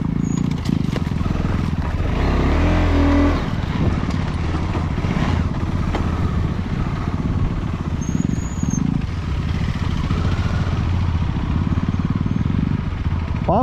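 A KTM off-road motorcycle on a hardcore dirt trail revs hard and blips its engine, loud and close with choppy bursts and rough idling between, and a voice briefly calls out partway through.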